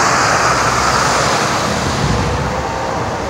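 Heavy metal snowplow trucks clear snow from Bronx streets in New York, a steady loud roar of engines and scraping road noise rolling on without pause, no voices over it.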